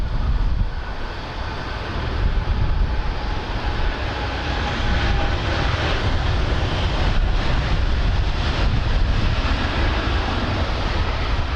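An airliner's engines roaring on takeoff from runway 16 right at Sydney Airport, a loud broad steady rumble that continues throughout with no talk.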